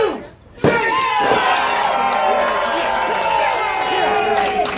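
A loud, vocal crowd cheers and shouts steadily at a wrestling show in Manteca, the roar rising suddenly after a brief quiet moment and holding for several seconds.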